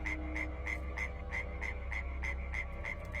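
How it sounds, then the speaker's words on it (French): A mechanical frog toy croaks in a steady, rhythmic series of about a dozen evenly spaced pulses, continuous and fairly loud over a constant low hum. "la grenouille s'est remise à coasser et elle ne s'arrêtait plus"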